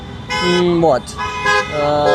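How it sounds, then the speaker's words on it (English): Car horns honking on a busy road in Kyiv, several loud sustained toots overlapping in long blasts with brief gaps, close by over steady traffic noise. "people are honking in support of our captives, in support of the ralliers here"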